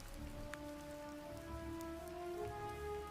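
Steady rain patters on a surface nearby with a continuous hiss, joined by faint sustained tones in the background.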